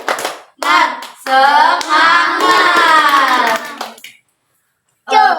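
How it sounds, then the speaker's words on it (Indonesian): A class plays a rhythmic clapping ice-breaker game: loud, close hand claps in short bursts mixed with voices chanting together, with a brief pause before the next round begins. "Ayo kita ice breaking dulu. Tepuk semangat."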